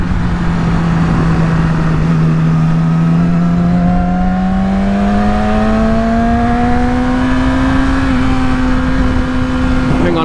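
A 2016 Yamaha R6 motorcycle engine pulls steadily at highway speed, its loud, rising whine climbing through the gears over constant wind roar, close and continuous throughout.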